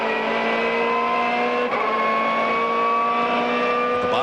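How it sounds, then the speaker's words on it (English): Onboard a BMW M3 GTR V8 race car at full power, a loud, steady high-revving engine howl with sustained harmonic tones and a brief shift blip midway, no voices. "On board with J.J. Leto in this beautiful BMW M3 GTR, the V8 car making well over 400 horsepower"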